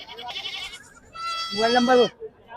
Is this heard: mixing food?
no